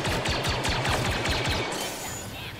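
Dense burst of gunfire from the video game Star Wars Battlefront II, rapid overlapping shots and impacts forming a steady loud barrage that thins slightly near the end.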